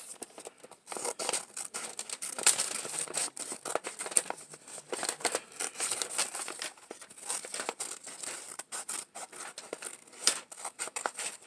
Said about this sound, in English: It's easy if you cut with the back of the scissors and just turn your paper